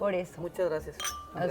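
Glasses clink together during a celebratory toast, a couple of bright clinks heard between and under people talking and thanking one another.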